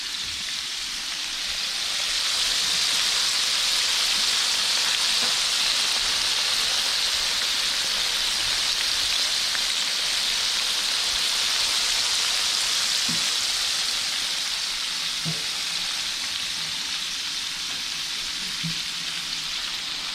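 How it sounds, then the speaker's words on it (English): Redfish fillets from the Texas coast frying in a pan give a steady, dense sizzle that stays loud and even from start to finish, with a few faint clicks and no talk over it. "Look at that thing sizzling up."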